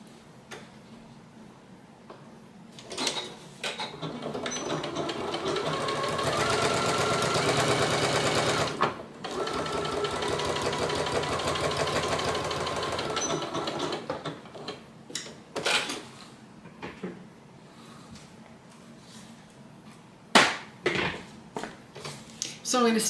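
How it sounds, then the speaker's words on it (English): A domestic sewing machine stitches Italian leather at a long stitch length, running in two sustained bursts with a pause between, followed by scattered clicks and handling taps as the work is turned. "So I'm going to stitch in one direction and then I'm going to turn and stitch in the other."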